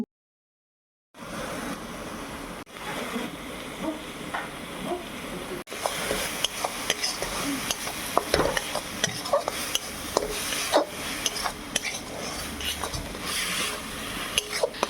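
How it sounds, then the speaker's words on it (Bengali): Spice paste with onion, green chilli, ground spices and salt sizzling in hot oil for a Bengali ridge gourd and potato fish curry, stirred steadily with scraping utensil clicks, close and continuous after a brief silent start. "সব মশলাগুলো দিয়ে ভালো করে নেড়ে চেড়ে"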